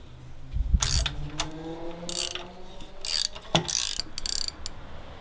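A ratchet tool working screws loose on the stock exhaust of a Triumph Bobber Black motorcycle, bursts of close rapid clicking separated by short pauses, no talk.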